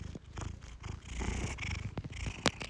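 A cat purrs steadily up close, a low rumbling drone with a brief sharp click near the end.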